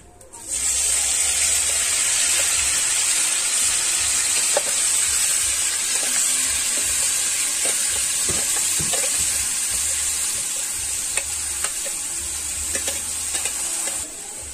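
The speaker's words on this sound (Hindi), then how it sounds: "अब इस पर डालेंगे हम प्याज।" Onions fry in a hot pan for Chhattisgarh-style chicken surwa, giving a loud, steady sizzle that starts abruptly and continues with occasional stirring clinks, up close and without talk.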